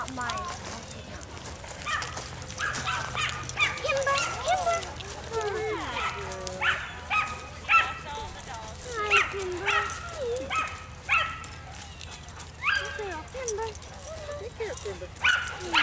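A black dog barks, yips and whimpers in short repeated bursts close by, while several people talk over and between the sounds.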